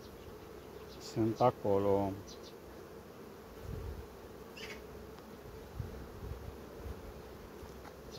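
Honey bees buzz steadily around a hive, a low continuous drone with a brief spoken phrase near the start.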